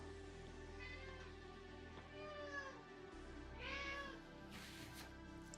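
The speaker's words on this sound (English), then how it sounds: "The cat's arguing again." A male house cat meows insistently indoors, several drawn-out, rising and falling calls close by and fairly faint, with a quiet background hum and no voices over them.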